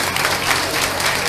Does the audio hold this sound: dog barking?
no